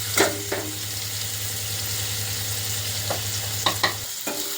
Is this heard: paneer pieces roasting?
yes